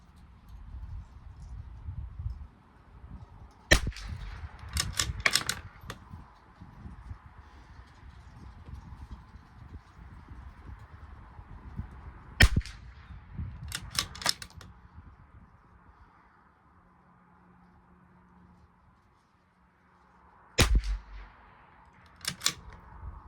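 A Bergara B14R Club Master rifle fires during an ammunition test at a range, sharp cracks coming singly and in quick clusters of two or three, about nine shots spread over the stretch, with quiet rustling in between.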